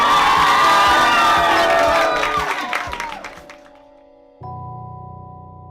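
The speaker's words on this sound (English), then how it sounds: "Please give plenty of applause." An audience at a drag show for a child performer cheers, whoops and applauds loudly. The crowd noise fades over a few seconds, then drops out, and a low steady hum starts afterward.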